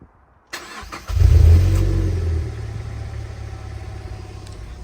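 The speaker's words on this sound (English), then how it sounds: "This is the modified exhaust." A Mazda car with a modified aftermarket exhaust starts up and revs loudly close by, a deep rumbling roar that swells and then settles into a throaty idle.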